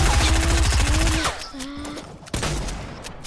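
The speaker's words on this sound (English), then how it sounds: "Somebody shot me in the head!" Fortnite gunfire in rapid bursts, a dense fusillade of close shots rattling through the first second and a half, then scattered cracks and another burst later, with game sounds mixed in.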